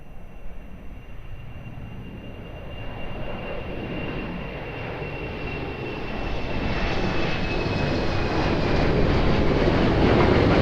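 An airplane on approach to runway 02 at Lisbon Airport, its engine roar steady and slowly swelling louder as it nears, with a faint whine riding over the rumble and no talk.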